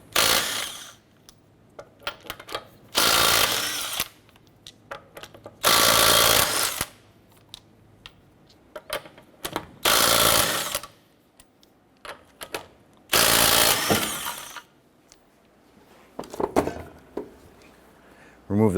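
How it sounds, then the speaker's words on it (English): Honda Accord lug nuts spun off with a 19mm socket on an impact gun, several loud rattling bursts of a few seconds each separated by quiet pauses with small clinks. "Using a 19mm socket, let's go ahead and remove our lug nuts."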